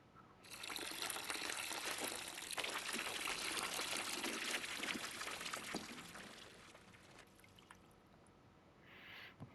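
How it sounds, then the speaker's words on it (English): Liquid pours steadily for about six seconds while brewing beer in the Brewmaster simulator game, a close, hissing rush that tapers into a softer trickle before fading. No talk accompanies it. "Right, so we want to pour that into there."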